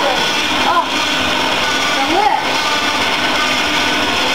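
Electric stand mixer whirring steadily in a home kitchen while beating meatloaf ingredients, its motor a constant busy drone with a couple of brief pitch swoops as speed shifts, running continuously with no pauses.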